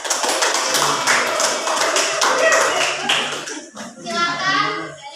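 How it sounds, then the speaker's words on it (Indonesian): Schoolchildren in an elementary social studies classroom break into rhythmic group clapping that fills most of the moment, then fades into children's voices chattering near the end. "Tepuk tangan."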